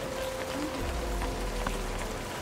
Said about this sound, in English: and it's now it's raining.